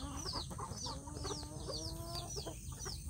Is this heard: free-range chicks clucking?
yes